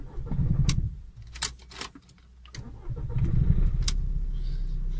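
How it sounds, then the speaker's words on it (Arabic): Volkswagen Golf 4 car engine starting: a starter cranks briefly, the motor catches, dips, then settles into a steady close idle, with a few clicks and key sounds between. "غادي نشغلوا السياره"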